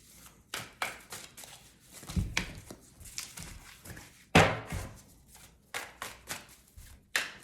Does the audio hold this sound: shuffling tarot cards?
yes